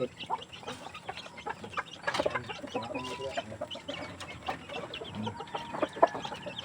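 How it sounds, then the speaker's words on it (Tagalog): Chickens cluck in a busy outdoor mix, scattered calls overlapping against steady background noise, with a few louder squawks standing out. "mga dyan ilang manok diri grabe kadaghan"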